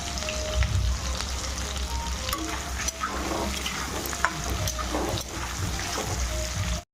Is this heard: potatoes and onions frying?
yes